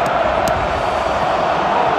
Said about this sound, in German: Alter, schaut mal, der Jubel, Mann.